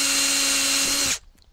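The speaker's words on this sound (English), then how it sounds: "we could actually go ahead and drill those holes right now" A power drill bores a 19 mm hole in a Ford Super Duty: a loud, steady high whine at constant speed that cuts off abruptly, leaving a few faint clicks.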